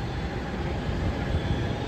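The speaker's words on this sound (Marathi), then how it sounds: "PCMCची लेटच येते मेट्रो," A PCMC metro train pulling into the station, heard as a steady low rumble and hum that fills the whole brief moment, with no voices.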